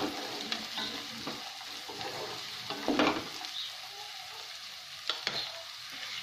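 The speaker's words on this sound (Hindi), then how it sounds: "अब मटर को हम 2 मिनट तक अच्छे से पका लेंगे।" Peas sizzle and fry in a pan while vermicelli upma is cooked, a steady close crackling hiss with occasional louder stirring scrapes and spatters, no talking.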